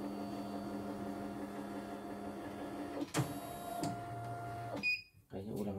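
Embroidery machine with a rough, snoring-like running fault, giving a steady low mechanical hum with a brief rising whir partway through and a short pause near the end.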